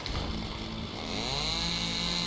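Revving chainsaw used as a weapon in Payday 2, a sustained buzzing whine with a rising pitch sweep partway through, loud and alone with no talk.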